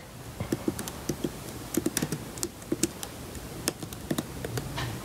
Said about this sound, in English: I'm going to be typing one-handed